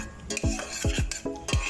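Gelatin mixture stirred continuously in a pot for a no-bake cheesecake, a spoon scraping and clinking in a steady rhythm of about four strokes, close and fairly loud with no talk.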